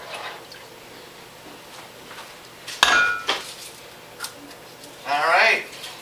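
Spoon stirring grits in a pot on the stove, with a few sharp clinks and scraping bursts against the metal over a quiet background.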